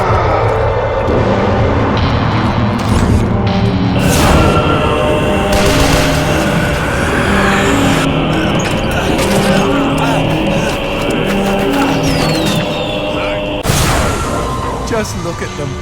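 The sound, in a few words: fireworks bursting in Shadows of the Damned video game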